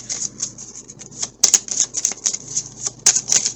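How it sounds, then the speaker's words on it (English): A tarot card deck is shuffled by hand, giving quick, crisp riffling and flicking clicks in uneven bursts with a few sharper snaps, close and moderately loud, with no voice. "Can't really see my hands shuffling fully either, can you?"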